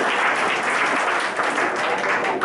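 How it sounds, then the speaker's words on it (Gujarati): An audience at a Parichay Shivir camp session in Gujarat claps together in a dense, sustained burst of applause that fills the room for a couple of seconds. "આપણે આ લોકો તાળીઓથી વધારી લઈએ."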